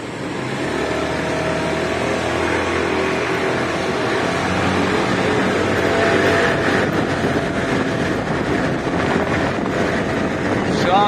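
A 50cc scooter engine revved continuously for about eleven seconds, a steady loud buzzing drone with wind-like noise and no clear pauses.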